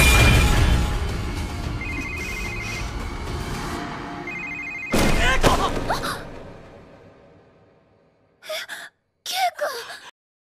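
In an anime, a telephone rings twice in clear electronic trills amid loud gasps and commotion, followed by two brief sharp sounds after a pause.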